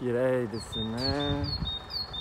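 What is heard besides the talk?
birds singing in a park in the morning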